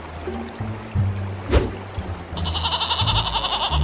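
A goat caught in rising floodwater bleats in a few strained calls over a watery, rushing background that swells toward the end, the cries fairly close and mixed with low rumbling.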